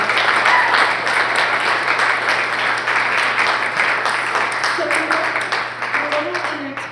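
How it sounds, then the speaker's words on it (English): Audience applause for a journalist at a global health talk, dense sustained clapping that slowly fades toward the end as a few voices begin to talk over it. "let's give Fatma another round of applause"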